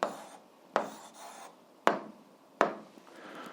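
Pen strokes on paper while an algebra answer is written down, a few scratchy rubbing passes broken by four sharp taps as the pen lands, close and fairly quiet with no talk.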